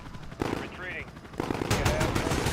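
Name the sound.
gunfire in video game Call of Duty Modern Warfare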